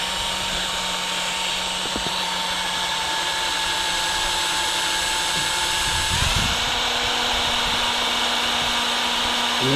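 Steady high whine of a power drill boring through material while a hoophouse is finished, running continuously and loud, with a brief dip in pitch midway before the motor picks up again.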